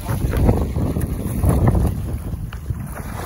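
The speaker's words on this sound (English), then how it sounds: "That wind's picked up a touch" Wind gusts over a fishing boat at sea off Waihau Bay, a loud, rumbling buffeting against the microphone that carries on for the whole moment.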